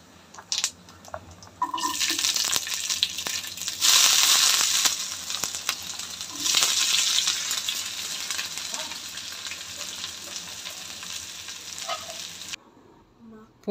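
Garlic, ginger, onion and curry leaves hit hot oil after mustard seeds, bursting into a loud close sizzle that swells, crackles and settles into a steady fry before cutting off.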